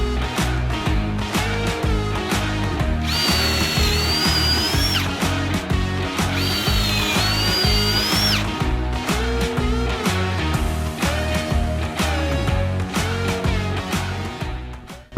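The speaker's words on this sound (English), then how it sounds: "we're just going to use the Kreg jig here to make some pocket holes for the stretchers" A drill bores pocket holes in wood through a Kreg jig, with short loud whining bursts that rise and fall in pitch, repeated close together in quick succession, near and prominent with no talking.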